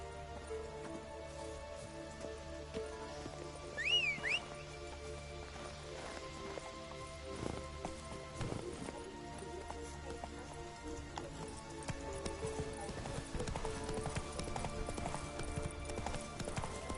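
Horse hooves clip-clop at a gallop in The Witcher 3 video game, a steady rhythmic beat running throughout under game music, with a brief higher whinny-like sound near the start.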